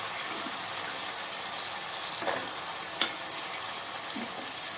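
A soft, steady sizzle of chopped eggplant sautéing in a pan, with a few light scraping and clinking touches as it is stirred.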